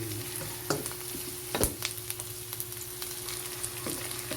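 Chicken and mixed vegetables stir-frying in a pan, a steady sizzle with intermittent scraping and clinks as the food is stirred, fairly close and moderately loud.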